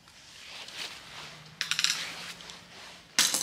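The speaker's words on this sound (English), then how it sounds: "snip this wire. I'm going to snip it long" Wire snipped with hand snips while making a primitive Christmas wreath: a few sharp metallic clicks and snaps in quick succession, close and fairly loud, with a final crisp cut at the end and no talk.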